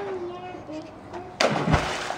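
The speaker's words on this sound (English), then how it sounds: "your back slaps the water. Or rolls into the water." A child's cannonball jump lands in a pool with a sudden loud splash and slosh after a moment of quiet voices, close by, followed by churning water.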